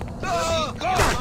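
Gunfire in a video game sounds as a single sharp shot layered with game voices and effects, brief and loud, with in-game characters talking over it.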